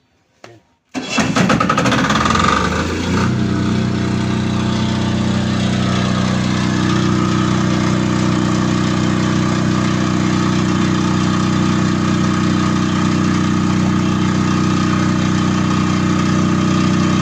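A standby generator engine cranks and catches after a brief click on automatic start, then settles into a steady, loud idle that drones on without change.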